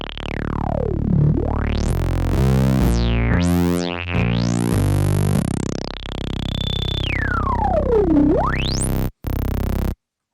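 Synthstrom Deluge synthesizer patch playing loud sustained notes through a low-pass filter, with resonant sweeps gliding down and back up, stepping pitches and a brief cut near the end.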